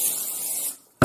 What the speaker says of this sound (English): I'm just gonna spray this with cooking spray so there is no